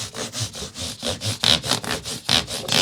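Guitar frets on a Fernandes Zo-3 are rubbed with a StewMac polishing cloth, a close, rhythmic back-and-forth scrubbing of about a dozen quick, even strokes.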